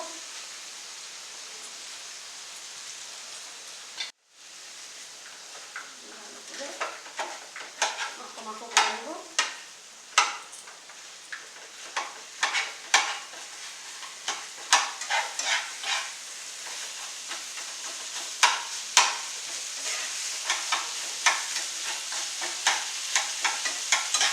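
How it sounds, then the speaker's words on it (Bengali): Rohu fish heads fry in oil in a pan under a steady sizzle, broken by a brief pause and then many sharp, crackling spatters and spoon scrapes that grow louder over time. "এর মাছের মাথাগুলো দিয়ে দিব একটুখানি মাছের তেল আছে ওটাকেও এর সাথে অ্যাড করে দিব"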